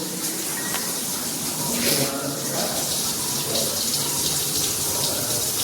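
Water pours steadily into a cooking pan to boil Maggi noodles, a constant hissing splash that lasts the whole stretch at moderate volume.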